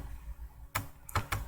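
A computer keyboard typed on while entering a value in a React tutorial: a few sharp, separate keystrokes spaced across a brief moment, near and fairly quiet, with no speech.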